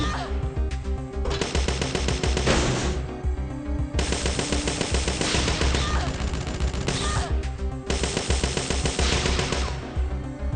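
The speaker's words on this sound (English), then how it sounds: "Oh, that's Spartan bullets." Repeated bursts of loud gunfire from Spartan bullets in the video game Parasite Eve II, dense crackling volleys lasting a few seconds each with short pauses between them.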